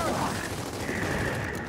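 Sustained gunfire in the Gears of War 4 video game, a continuous dense rattle of shots filling the clip at steady loudness, with game sounds layered over it.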